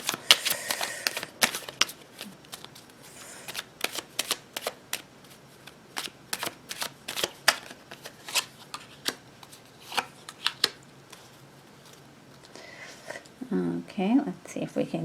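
Tarot cards being shuffled in a series of quick, crisp riffling bursts and slaps, loud and close, repeating at an uneven rhythm through most of the stretch, with a brief voice at the end.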